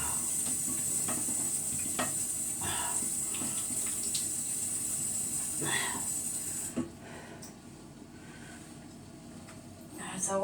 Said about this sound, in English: Wash your meat. Just washing it now.